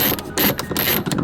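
A ratchet clicks in short bursts while screws securing the head unit of a BMW F80 M3 are loosened, loud and close with quick rhythmic pawl ticks separated by brief pauses.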